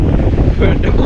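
Strong wind batters the microphone on the Ramakkalmedu hilltop in Idukki, a loud, continuous roaring rush of gusts with no break, heard close up throughout.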